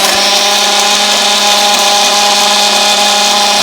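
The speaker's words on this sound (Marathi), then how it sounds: "आता आपल्याला हा मिक्सर लावून घ्यायचा आहे आणि ह्याला आपल्याला बारीक करून घ्यायचे" A kitchen mixer grinder grinding sesame seeds into powder, a loud steady motor whine that runs unbroken throughout, close up and alone.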